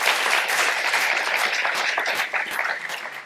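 An audience at a H2O'Lyon awards event applauds an absent laureate, a close, full round of clapping that holds steady and then begins to thin toward the end.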